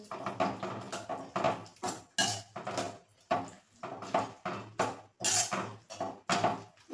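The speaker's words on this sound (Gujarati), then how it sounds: "પનીર એડ કરી અને આપણે બરાબર મિક્સ કરી લેશું" Paneer stirred into a corn curry in a metal pan, with a spoon scraping and knocking against the pan in a steady run of loud strokes, one after another.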